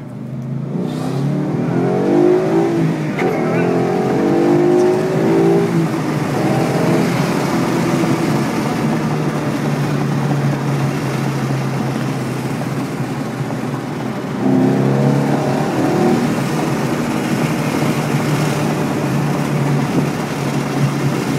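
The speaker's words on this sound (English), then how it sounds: "Stock exhaust running right now, right from the factory, 2010 Mustang GT stock" A stock 2010 Ford Mustang GT V8 on its factory exhaust, with a steady low engine drone that rises into two rev surges early on and again midway, close and loud, with no talking.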